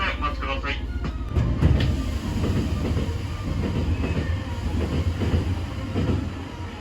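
An express train passes through Sumiyoshi-higashi station on the Nankai line: a close, loud rumble that swells and then holds steady, with rhythmic wheel clatter and faint squeals.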